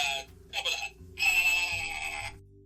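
A quiz buzzer sound effect from a game segment goes off three times: two short bursts, then one long, bright, steady buzz, loud and clear with no talking over it.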